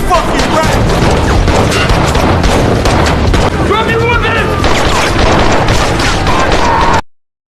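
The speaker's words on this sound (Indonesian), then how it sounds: "langsung terlibat baku tembak dengan Broker" Gunfire in a film shootout with police: dense, continuous loud bursts and booms filling the whole stretch, layered with music or effects and shouted voices.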